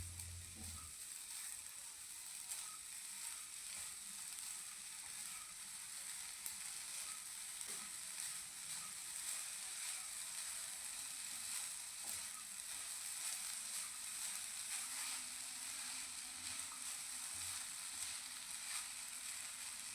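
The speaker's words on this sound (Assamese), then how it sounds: "এতিয়া ল' ফ্লেমতে এইখিনি আকৌ অকণমান সময়ৰ কাৰণে ভাজি ল'ম যেতিয়ালৈকে গুড়খিনি গলি নাযায়" Rice and jaggery fry over a low flame with a quiet, even sizzle that holds steady throughout, joined by a few faint stirring scrapes; there is no talk.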